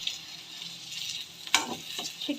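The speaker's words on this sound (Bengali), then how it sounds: "বাবুর জন্য হচ্ছে গাজর আর আলু ভাজি করতেছি" Carrots and potatoes frying in a pan for a baby, a steady soft sizzle with scraping stir strokes and clinks toward the end.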